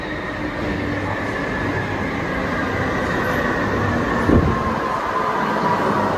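Steady rumble of a metro train in motion, a constant roar of wheels and carriage with a brief clatter partway through; no talking.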